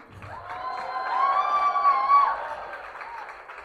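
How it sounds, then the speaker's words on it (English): Crowd at a mayor-elect's election-night victory speech cheers and whoops, a swelling mass of raised voices peaking in the middle then easing, with light clapping underneath. "So clap for all of you."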